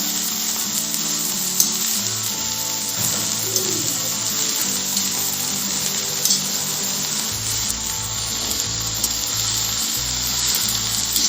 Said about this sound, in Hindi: तो मैं भी धीरे धीरे करके ही अपने सारे पत्तों को इस कढ़ाई में डाल दूंगी